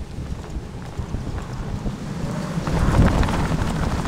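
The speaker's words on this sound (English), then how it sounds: "having to brace myself against the wind." Strong desert wind near Palm Springs roars steadily across the microphone, building into heavier buffeting gusts partway through, with blowing sand and no talk.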